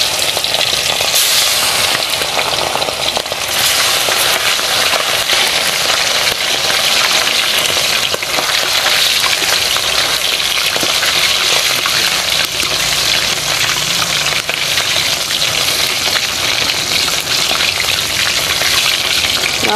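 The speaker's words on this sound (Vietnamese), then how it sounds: "Rồi giờ mình chiên." Loud, continuous sizzling and crackling of frog meat frying in hot oil, steady and close throughout with no one speaking.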